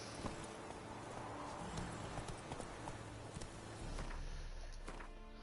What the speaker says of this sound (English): Come here, Roach.